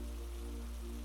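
Rain falling on a night in Venice, a soft continuous patter and hiss of drops over a steady low hum, even and unbroken throughout.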